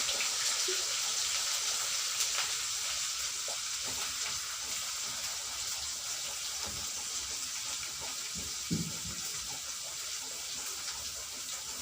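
Onion, chili and cashew frying in hot oil in a home kitchen, a steady broad sizzle with faint stirring scrapes and occasional soft knocks throughout.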